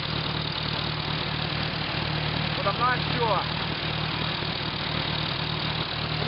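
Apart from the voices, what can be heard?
Hercules four-cylinder engine running on WWII A3 generator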